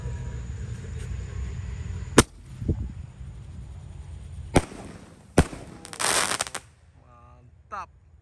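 Small-to-large roman candle fireworks fire several sharp, separate shots with short gaps between them, each launch a loud crack over steady outdoor background noise, then a crackling burst near the end.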